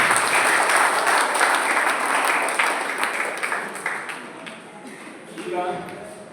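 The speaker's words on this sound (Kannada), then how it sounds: "ಅದಕ್ಕೆ ಎಲ್ಲರೂ ಕೈ ಚಪ್ಪಾಳೆ ಹೊಡೆದು ಸಂತೋಷಿಸ್ತಾರೆ" Applause from an audience at an evening church program at St. Francis Xavier Church, a broad wash of clapping that fades gradually over several seconds, with faint voices and a brief tonal sound near the end.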